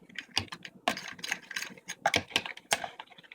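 A whisk clatters against a bowl while mixing homemade BBQ sauce with sugar and mustard, giving quick, irregular clicking and scraping bursts at close range with short pauses between strokes.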